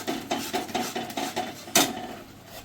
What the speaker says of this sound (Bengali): এবার আমি এটাকে ভালো করে একটু কষিয়ে নেবো মশলাটা।